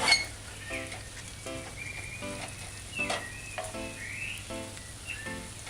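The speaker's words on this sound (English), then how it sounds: "we're going to saute the seasoning" Seasoning sautés over very low heat in a pan for pork and broccoli in oyster sauce, a faint steady sizzle beneath intermittent squeaky stirring and utensil scrapes, close and quiet with no talking.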